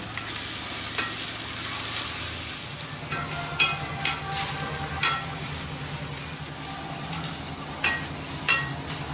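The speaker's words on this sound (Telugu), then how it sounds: "ఇప్పుడు అల్లం పేస్ట్ అయితే వేగిపోయింది" Ginger paste fries in oil in a pan while cooking a chicken curry, giving a steady close sizzle broken by several sharp scraping stirs of a spoon.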